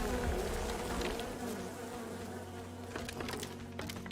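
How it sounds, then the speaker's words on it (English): Bees in the video game Len's Island hum in a dense, continuous swarm that stays close and loud throughout, with a faint low background drone beneath. "Ah, bees, they're in my hair."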